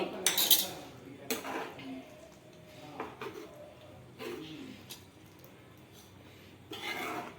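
Fried cashews are added to a boneless chicken masala curry in a pan, with a handful of metallic spoon clinks and scrapes against the cookware, spaced out and fairly quiet.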